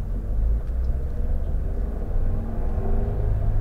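A manual car's engine gains revs as gas is applied after the clutch is released, making a low, steady rumble with slowly rising tones. It is heard continuously from inside the cabin, with no talk.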